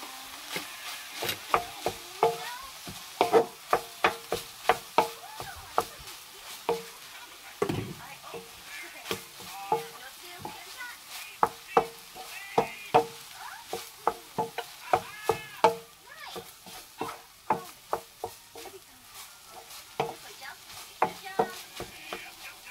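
Rice being stir-fried with egg, tuna and carrots for tuna egg fried rice, with a spatula scraping and tossing in rapid uneven bursts over a steady sizzle, close by and fairly loud throughout.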